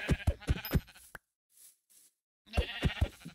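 Minecraft sheep bleating: two bursts of wavering, nasal bleats separated by a short near-silent gap, loud and close.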